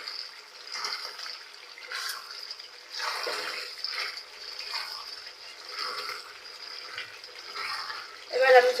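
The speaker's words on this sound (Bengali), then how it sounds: "এবার একটু নেড়ে চেড়ে নিয়ে আমি ঝোলের পানি দিয়ে দেবো।" Water for a fish curry gravy with potato, eggplant and radish is poured into a hot pan, giving rising and falling splashy gushes in several bursts over a constant sizzle, ending in a louder burst.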